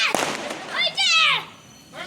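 A firecracker bursts outdoors during a festive celebration. A single sharp pop sounds near the start, followed by excited children's voices chattering and calling out.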